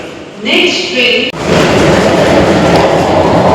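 Local train at a large Chennai railway station: a tonal whine and hum first, then a loud, sustained broadband rumble and rush of the train moving close by, with a brief thump midway.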